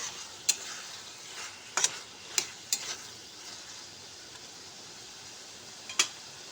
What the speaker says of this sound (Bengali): দিয়ে এটাকে খুব ভালো করে মশলার সঙ্গে নেড়ে চেড়ে মিশিয়ে নেব।